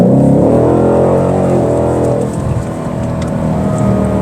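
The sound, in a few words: 2023 Ford Mustang GT Premium engine roaring, sport exhaust mode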